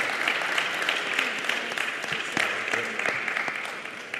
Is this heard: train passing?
no